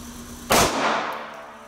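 A single sharp shot from a Sig P365 pistol, a loud close crack with a short ringing decay, set against a faint steady hum.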